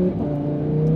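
A Lamborghini sports car with carbon ceramic brakes pulls hard for a single second, its engine note a loud, steady rising drone heard from inside the cabin.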